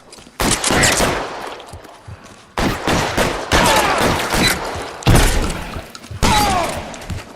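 Bursts of heavy gunfire from a shootout in the video game L.A. Noire, loud rapid volleys in several clusters separated by brief pauses, with impacts and clatter mixed in.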